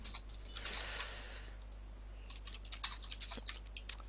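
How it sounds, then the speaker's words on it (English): Keyboard typing picked up through an open microphone during an online game match, a quick patter of faint key clicks over a steady low electrical hum, with no voices. "could you close your mic, because you hear typing"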